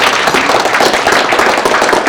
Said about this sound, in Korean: 김시아 교수님한테 한 번 박수 보내주세요